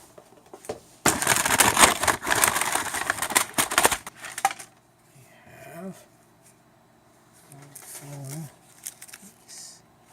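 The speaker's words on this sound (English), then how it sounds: "And when I opened the package, there should be some window glass in there." A package holding replacement window glass for an Amiga CD32 drive lid is opened with loud crinkling and rustling of packaging for about three seconds, followed by quieter handling noises and a faint voice.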